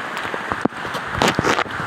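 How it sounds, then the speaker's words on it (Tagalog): Rain falls steadily outdoors during a downpour on flooded streets, a broad continuous hiss with a few brief louder patters and splashes, no voices. "Kasi nga umuulan."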